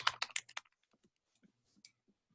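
A few quick keystrokes on a computer keyboard as a command is typed during a Hack the Box exercise, a rapid cluster of close, crisp clicks followed by faint scattered taps in near silence.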